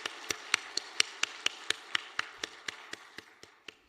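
A single person's hands clapping at a church officers' retreat, about sixteen sharp, evenly spaced claps in a steady rhythm that gradually fades, with no talk over it.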